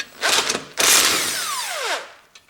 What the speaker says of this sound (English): I have 10mm socket, and then I open that bolt.